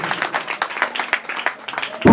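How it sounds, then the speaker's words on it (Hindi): Audience clapping greets award winners at a 2022 Jasgeet song competition prize ceremony. Quick, uneven claps run steadily for about two seconds before a loud low thump cuts in at the end. "जोरदार तालियों के साथ उनका स्वागत करें"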